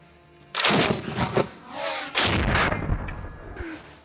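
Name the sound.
KPV 14.5mm Soviet heavy machine gun firing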